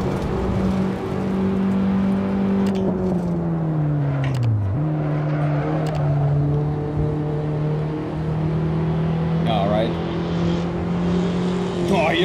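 A BMW M6 race car engine passes during a race, a loud sustained drone that dips in pitch as it goes by, then holds steady with a voice talking over it.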